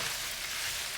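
Food frying in a pan, a steady close sizzle that holds evenly throughout with no voices, the crackle broad and hissy as the mixture is stirred.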